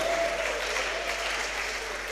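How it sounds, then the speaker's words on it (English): A crowd at a national public speaking competition semi-final applauding steadily, a dense wash of clapping that holds at the same level throughout. "please, a round of applause for them."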